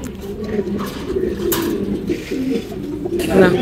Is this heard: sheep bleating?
no